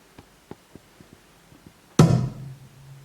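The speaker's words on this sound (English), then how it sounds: "For the first verse, I use this very, very impactful kick," Several soft, dry ticks lead to a single heavy, punchy kick drum hit with no effects, booming near and loud before a low tail decays.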